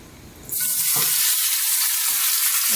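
Trinidadian pastelle filling hits a hot pot and sizzles loudly, a sudden burst of frying that settles into a steady, close, hissing crackle with a few faint stirring knocks beneath it.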